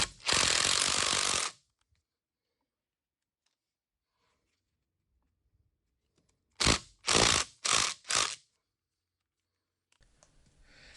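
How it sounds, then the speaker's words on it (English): Light-duty impact driver hammering on a bolt of a Troyke rotary table during disassembly: one long loud burst, then a pause, then four short rattling bursts in quick succession, close and without talk. "I'm going to go ahead and try using my lighter duty impact driver here"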